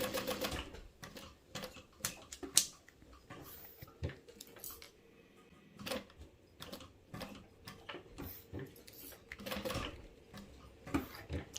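Sewing machine stitching a fabric passport holder in short, uneven bursts, with sparse ticking and clicking of the mechanism between stitches, close and quiet with no talking.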